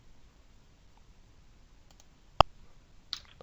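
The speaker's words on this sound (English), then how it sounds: "So double click here." Computer mouse double click at a desk, one sharp close click standing out against faint room hiss, followed by a softer click moments later.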